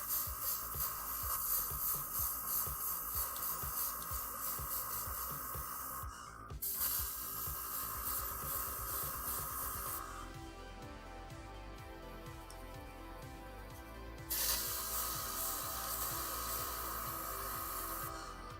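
An airbrush sprays paint onto Necron miniatures in a steady, close hiss that runs in long bursts, stopping briefly twice before starting again, with only faint background sound in the gaps.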